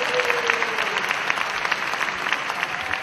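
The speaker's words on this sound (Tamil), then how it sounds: "கைத்தட்டுங்க பார்க்கலாம்" A congregation claps together during a Sunday church service, a sustained, fairly loud crowd of applause with a steady texture throughout.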